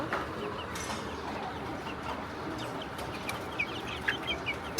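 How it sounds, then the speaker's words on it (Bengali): Broiler chicks in a cage on a rooftop poultry farm, cheeping and clucking over a constant flock murmur, with several sharper calls standing out near the end. "এই দেখেন ফার্মি মুরগির বাচ্চা"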